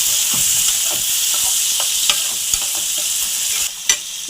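Chopped tomatoes frying in a pan for an egg and fenugreek curry, a loud steady sizzle with repeated stirring scrapes and a couple of sharper utensil knocks near the end, no voices.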